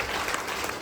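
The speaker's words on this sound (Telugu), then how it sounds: "సో ఇంత మంచి ట్రైనింగ్ ఇచ్చిన మన గ్రేట్ సేఫ్ షాప్ కంపెనీకి ఒకసారి బిగ్ క్లాప్స్ కొట్టండి." Steady applause from an audience at a training session in a venue hall, a dense continuous patter of many hands clapping that fills the brief moment without talk.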